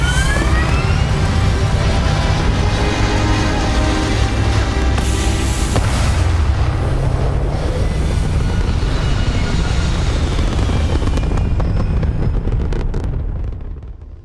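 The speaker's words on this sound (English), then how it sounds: "Engines purring." Spaceship engines in the video game Starfield rumble loudly with a dense, roaring wash and layered tonal whines, holding steady before tapering off at the end.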